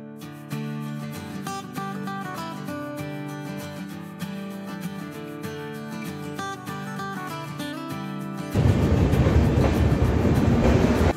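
A moving long-distance passenger train to Jammu Tawi, heard from the open carriage door past Lucknow Charbagh: a steady rumble with droning tonal hum and rhythmic wheel clacks, then a louder broadband rush of wind and track noise.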